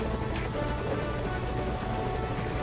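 A military helicopter sets down for a forced landing in Metal Gear Solid V: Ground Zeroes, its rotor beating in a steady, loud, rapid chop over a dense engine roar throughout.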